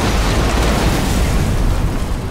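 Large explosion destroying an enemy structure in the Halo Wars 2 real-time strategy game, a loud sustained rumbling blast with broadband roar that stays dense and steady throughout.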